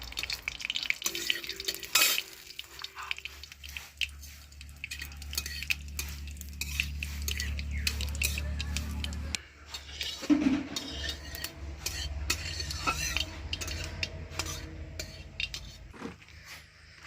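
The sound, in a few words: mustard seeds and dried red chillies sizzling in pan tempering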